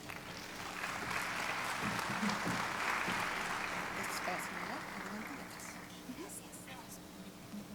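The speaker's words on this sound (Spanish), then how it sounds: "para quien les pido un fuerte aplauso" An audience applauds at a medical conference talk on diabetes treatment, a sustained wash of clapping that swells and then fades over several seconds, with a voice faintly underneath.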